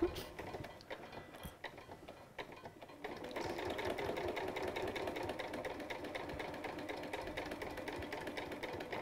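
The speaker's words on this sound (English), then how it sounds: "I'm going to make sure I use my needle down position as well." A sewing machine stitching slowly with the needle down, a steady mechanical ticking hum that builds after a few seconds of quieter starts, close and unaccompanied by speech.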